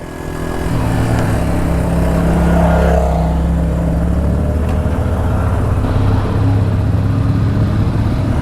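A Yamaha TW200 motorcycle ridden off-road, its small single-cylinder engine droning steadily close up, with some wind noise and shifting engine pitch as it moves over the terrain, with no talking.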